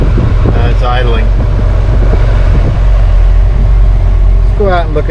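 A classic Mercedes-Benz engine, from a 1963 220SE, 1971 280SE or 1972 280SE 4.5, idles steadily with its air conditioning running, a continuous low hum under a voice at the beginning and end.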